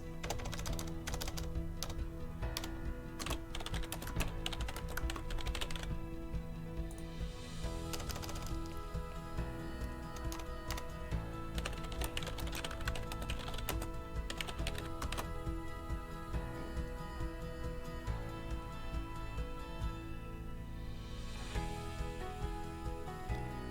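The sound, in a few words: typing on a computer keyboard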